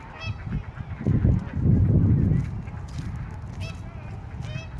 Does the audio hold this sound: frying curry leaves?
no